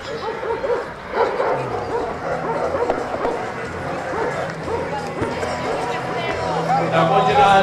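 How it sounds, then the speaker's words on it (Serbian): Šarplaninac dogs at a specialty dog show bark and yip in scattered bursts amid a noisy crowd, with people talking throughout and a busy outdoor background. "Sada ću njihovu čast prodeželovati psi rase Šar planinac."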